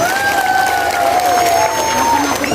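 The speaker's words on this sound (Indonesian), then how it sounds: "Tepuk tangan dulu dong buat santri." An audience at a large Islamic religious gathering in 2023 applauds and cheers for the santri, a loud, full crowd noise with clapping and a sustained tonal voice or sound riding over it.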